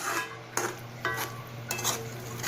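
Mushrooms stirred into tikka masala in a pan, a spoon scraping and knocking against metal in a few distinct strokes over a low steady hum, close and moderately loud, with no talking.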